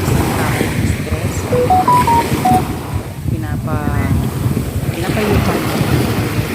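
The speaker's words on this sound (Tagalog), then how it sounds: "Yung tunog ng waves sa dagat." Sea waves wash onto the shore at Calayo Beach in Nasugbu, Batangas, a steady broadband surf under gusty wind buffeting the microphone, with a voice speaking briefly in the foreground.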